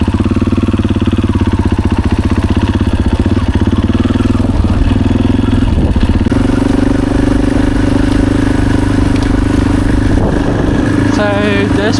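A four-stroke motorcycle engine, fitted to a newly acquired bike, runs loud and close at a steady, pulsing idle throughout, with a few rises in revs and voices talking over it.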